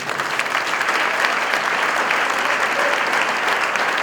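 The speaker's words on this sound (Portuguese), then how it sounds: "Você pode aplaudir ao Senhor." A church congregation applauds together, a steady wash of dense clapping holding at even loudness throughout with no speech over it.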